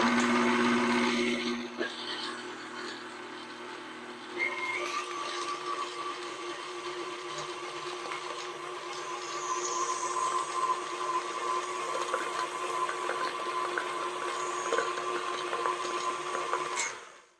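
Electric mixer beating gluten-free German cuca dough, a steady motor whine with a constant hum running throughout, close and fairly loud, no talk.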